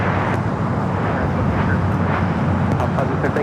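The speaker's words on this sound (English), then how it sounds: "787-9 Dreamliners are next takeoff here on the south side." A 787-9 Dreamliner airliner taking off from the south side runways at LAX, a steady broad roar of jet engines at a distance with wind noise, while people talk over it.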